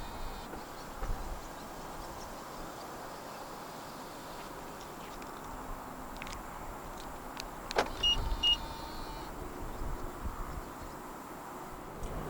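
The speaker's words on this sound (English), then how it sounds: "you are able to roll down all 4 windows in the car simultaneously" Power windows of a 2024 BMW i5 eDrive40 M Sport, all four rolling down together, hum quietly inside the car, a soft electric whir against low cabin rumble, with a few clicks and a brief louder thump midway.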